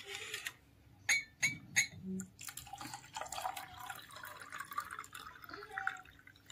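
A few light clinks, then a soft, steady pour of water splashing into a vessel while making lemon sherbet, fairly quiet with faint background noise.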